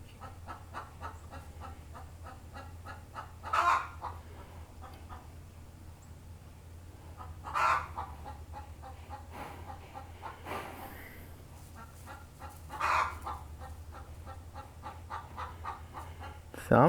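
A farmyard chicken lets out three or four spaced squawks over a long stretch, each a short sharp burst above a low constant hum, with soft clucking in between.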